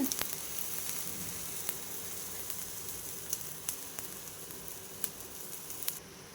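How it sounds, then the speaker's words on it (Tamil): Steady bubbling hiss of a pot of water at a rolling boil with sago in it, with faint scattered pops and clinks throughout. "தண்ணி நல்லா கொதிச்சிருச்சு."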